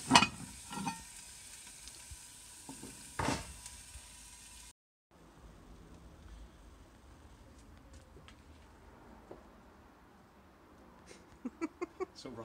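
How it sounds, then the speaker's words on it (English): Sausages and pancetta frying in a Dutch oven, giving a low steady sizzle with occasional clatters and taps from the pot. Quiet and outdoors, with a short break partway through and a few sharp knocks near the end. "The sausages are fried off a little bit and the pancetta is delicious and fried as well."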